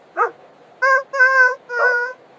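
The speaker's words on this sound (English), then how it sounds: "Pet this cute dog." A dog gives a short yip followed by three drawn-out, tonal whimpering whines, close and clear against a quiet background.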